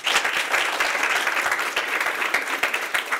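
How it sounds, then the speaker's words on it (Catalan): Steady applause from a crowd at a school contest between Institut La Garrotxa and Escola Cor de Maria teams, dense and continuous clapping heard alone throughout. "Els aplaudim."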